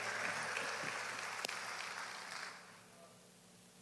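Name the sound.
church congregation applauding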